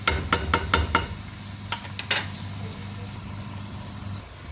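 Onions frying in a pan sizzle with a steady low crackle, a few sharp stirring clatters near the start, then a continuous sizzle.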